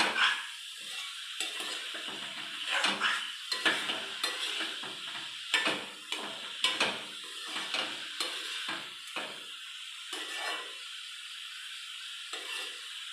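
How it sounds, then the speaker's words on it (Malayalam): Thoran, a Kerala stir-fried vegetable dish, stirred in a frying pan: repeated scraping strokes of a spoon against the pan over a soft sizzle, close and fairly quiet, with no talking. "നമ്മുടെ തോരനൊന്ന് ഇളക്കി കൊടുക്കാം."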